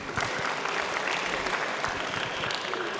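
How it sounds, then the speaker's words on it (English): A hackathon audience at UC Berkeley applauds, with dense, steady clapping from many hands filling the room for the whole stretch. "Nice round of applause, please."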